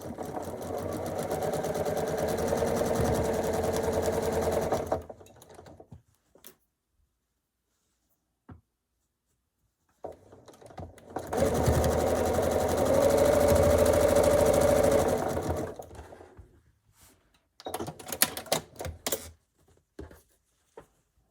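A sewing machine stitching quilt block units for an oak tree quilt block, running in two steady bursts of about five seconds each, separated by quiet pauses and a few light clicks, with a shorter, uneven run near the end.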